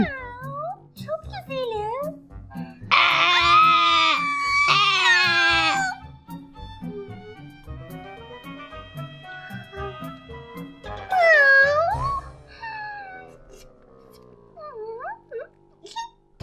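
A cat meows in a few drawn-out, wavering cries, loud and close, with talking in between.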